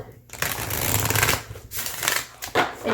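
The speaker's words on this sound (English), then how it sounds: "do my usual 4-pile card shuffle" A brand-new tarot deck shuffled by hand into four piles, giving close, crisp papery riffles and slides in several quick bursts with brief pauses between.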